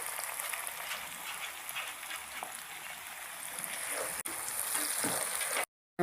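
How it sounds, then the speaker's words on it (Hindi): Chopped onion frying in a hot pan for a restaurant-style chicken tikka masala karahi, a soft, steady hiss and crackle that stays even throughout before a brief drop out at the end. "ये चॉप की हुई प्याज मैं इसमें डाल रहा हूँ। ये देखें, इसको मैं ज़रा फ्राई कर लूँगा।"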